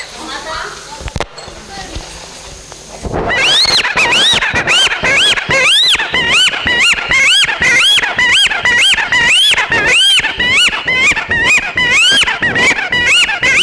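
A storyteller's voice imitates a newborn baby girl crying: after a few seconds of quiet murmur, a loud run of rapid, high, wavering wails pulses over and over for about ten seconds.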